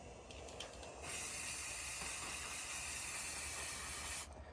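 Oil sprayed onto motorbike parts gives a steady, close hiss lasting about three seconds, preceded by a few short spurts.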